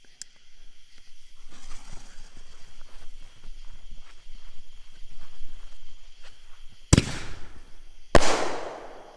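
A cheap consumer firework shell launches with a faint pop, and after footsteps and quiet movement, two loud sharp bursts crack out near the end, each trailing off in a crackling decay.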